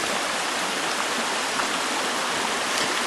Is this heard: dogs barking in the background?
no